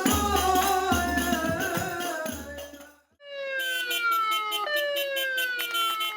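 Ambulance siren wailing loudly and steadily, with a brief gap before a second siren pattern with a different rising and falling tone.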